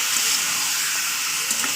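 Meat frying with spices in hot oil, a steady dense sizzle holding evenly throughout with a brief louder flare near the end, no voices.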